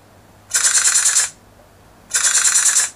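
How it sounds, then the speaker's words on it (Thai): Phone app machine gun sound effect firing in two rapid, crackling bursts of about a second each, separated by a short pause, loud and close with no talking. "กดที่ปุ่มปืนกล"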